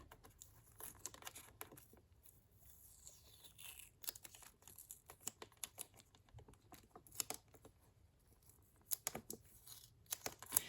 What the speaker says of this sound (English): Let me go ahead and take off the price tag sticker.